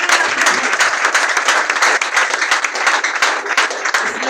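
A church congregation applauds and cheers together, dense loud clapping that rolls on steadily and close, with scattered voices woven through the crowd noise.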